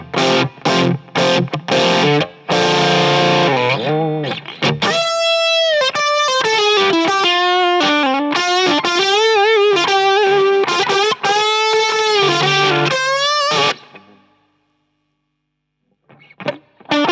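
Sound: guitar overdrive pedal with tone knob maxed

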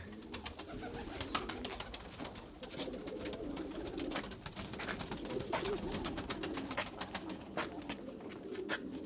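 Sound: Erzurum white pigeons cooing

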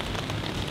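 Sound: constant rain

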